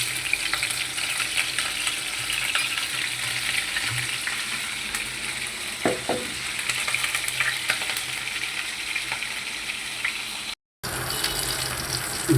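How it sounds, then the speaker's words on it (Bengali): Fish frying in hot oil in a wok for a potato and bitter gourd curry, a steady dense sizzle throughout with a few scraping stirs and a brief dropout near the end, no talking. "মাছটা ভেজে নেব"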